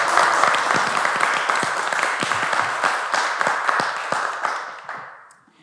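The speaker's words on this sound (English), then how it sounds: "So let's give him a round of applause." A dense round of audience applause at a university event honoring an honorary degree recipient; many hands clap steadily and fairly loudly for several seconds, then thin out and fade near the end.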